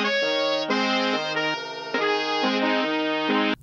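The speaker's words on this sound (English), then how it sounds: "Then I'm going to run some fake horn sounds through Lossy and glitch them out a bit," Synthetic horn tones glitched through a Chase Bliss Lossy pedal, a sustained brassy chord that steps between pitches with abrupt, choppy cuts, loud and continuous with no talking.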